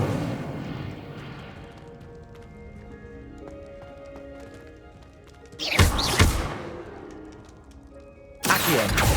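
An Incendio fire spell cast in Hogwarts Legacy bursts out loudly and close, once in the middle and again at the end, over a quiet, steady musical background.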